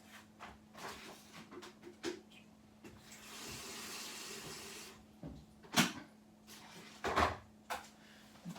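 Cool tap water running into a vessel while making forest berry mead, a soft hissing stream that rises and falls, with knocks and clunks of containers being handled nearby.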